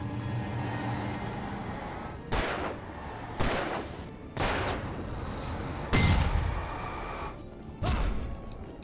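Explosions and gunfire in the video game Alan Wake: five heavy, sharp blasts spaced a second or two apart, loud and close, over a constant rumbling game background.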